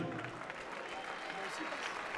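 Applause from the crowd at a savate boxing event, a steady wash of many hands clapping that sounds faint and distant throughout.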